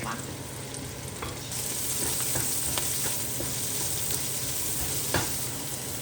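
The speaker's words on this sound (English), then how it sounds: "Stir fry the onion first. You can use purple or any kind of onions. Adding salt. Adding green pepper and garlic." Onion stir-frying in a wok with salt, green pepper and garlic, a steady loud sizzle running throughout with scattered clinks and scrapes of a spatula stirring, no talk.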